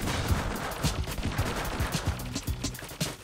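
Rapid gunshots in the PC game Dope Trashcanners, a dense run of repeated short bursts over a busy game background, fairly loud and steady throughout.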